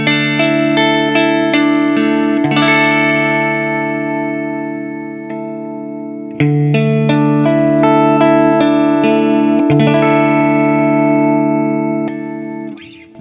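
A Stratocaster clone electric guitar plays in its regular Strat tone, ringing out chords and picked notes with sustained, clear harmonics and light effects, loud and alone.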